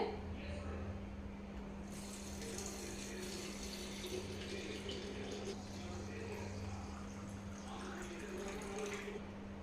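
Water pours steadily into a Navratri kalasam pot, a continuous faint splashing trickle over a low steady hum, with a slight swell in the middle.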